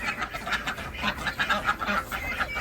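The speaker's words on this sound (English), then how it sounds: "Ducks. Quiet, will you? So noisy." Ducks quack noisily and continuously beside a backyard greenhouse, a dense flock of overlapping calls close by with no talking.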